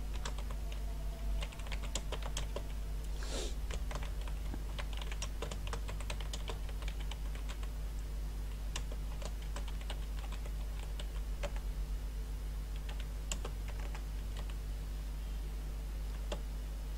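Steady keyboard typing as a description is entered for a LinkedIn company page, a continuous run of clicky keystrokes at close range with uneven rhythm over a constant low hum, with no speech.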